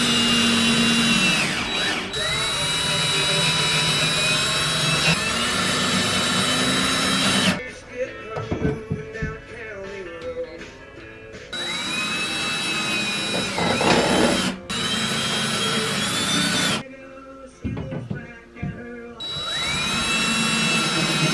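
Cordless power drill driving screws into a closet shelf, a loud steady whir that ramps up and bogs down in several long runs, separated by pauses filled with handling noise.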